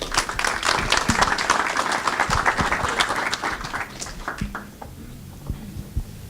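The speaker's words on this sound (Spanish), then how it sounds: "Recibimos entonces a Viviana con un fuerte aplauso." Applause from a seminar audience welcoming a speaker, a dense, close round of clapping that gradually thins into a few scattered claps before fading out.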